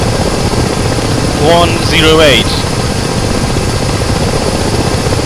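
Ka-50 coaxial-rotor helicopter in a flight simulator game, a steady loud rotor and engine drone running throughout as someone speaks briefly over it.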